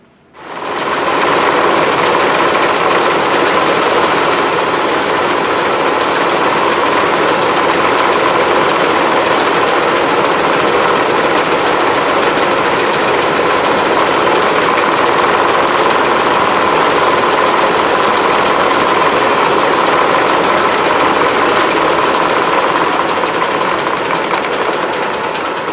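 A wooden piece spins on an old Fay & Scott lathe while being sanded, a loud, steady mechanical whir and rasp that runs continuously for the whole stretch, with short gaps in the hiss, no voices.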